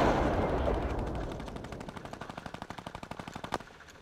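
Automatic gunfire in the Fortnite battle royale game, a rapid burst of evenly spaced shots rising out of a loud rushing wash and ending in one stronger crack, with no talk.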